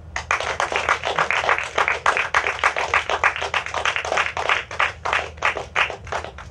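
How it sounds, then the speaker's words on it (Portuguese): A crowd claps steadily and densely for several seconds, a continuous wash of many hands applauding with no voices over it. "Uma salva de palmas para as nossas equipas."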